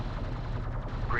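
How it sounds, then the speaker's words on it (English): Gunfire strikes units in a real-time strategy battle with sand skimmers and LAVs, heard as a dense, continuous rattle of rapid shots at a moderate level, close and unbroken. "Alert, support taking hostile fire."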